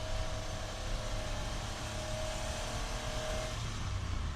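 A 1990 Honda Acty 4x4 engine drones steadily at road speed in fourth gear, heard from inside the cabin as a low, even hum with a faint whine running through it.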